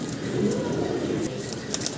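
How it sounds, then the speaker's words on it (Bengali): Pigeons coo in a low, continuous murmur from a crowded flock at a large pigeon farm. "সুন্দর সুন্দর কবুতর আছে এখানে"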